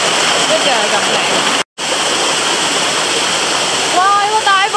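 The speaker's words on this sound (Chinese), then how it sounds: "哇，有个大瀑布啊，靓！" A large waterfall on a hillside stream hike, a loud, steady roar filling the whole clip, broken by one brief dropout, with voices and whistling-like tones near the end.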